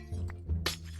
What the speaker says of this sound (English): mining and placing any amethyst related blocks will play a very beautiful sound effect that resembles crystals